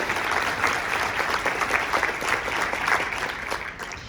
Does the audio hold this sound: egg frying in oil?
no